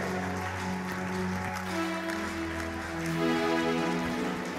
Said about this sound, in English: Let's receive our Father with a clap and a shout.